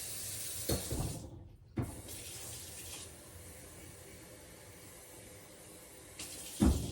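Water runs steadily from a tap into a measuring cup for several seconds, a continuous hiss with brief clunks at the start and end, close by.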